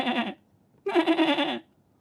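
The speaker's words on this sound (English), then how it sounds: "They're sheep." Two sheep bleats, each a wavering, nasal cry, the first short and the second longer, with a brief silence between them. Both are close and clear, with no talk.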